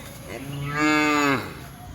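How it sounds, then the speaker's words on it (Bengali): A hill cow in mountain pasture gives a single loud, drawn-out moo lasting under a second, rising and falling in pitch, close by with no talking over it. "এই দেখেন একটা পাহাড়ি গরু চলে আসছে"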